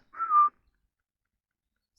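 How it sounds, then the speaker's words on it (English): A single short whistle from a sailor trying to catch a seal's attention at sea, a faint rising-falling tone heard alone against silence. "so he whistled once more"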